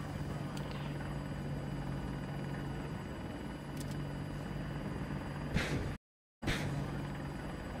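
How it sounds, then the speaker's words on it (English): A helicopter in the Battlefield 2042 video game, a steady loud rotor and engine drone that runs almost the whole time, with a brief cut to silence near the end and a few short sharp effects. "Got my chopper."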